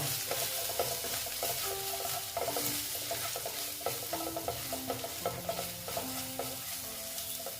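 Chili powder is stirred in a frying pan for a katla fish kalia curry, giving a loud, close sizzle under repeated rhythmic scraping strokes of a spatula against the pan throughout, with no talking.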